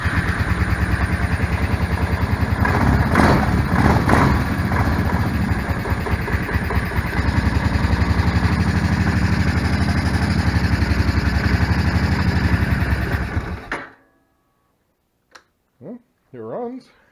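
Kawasaki Prairie 700 ATV engine, freshly reinstalled carburetor and a little choke on a cold day, running steadily with a loud close rumble for about fourteen seconds before cutting off, followed by brief sounds in the quiet.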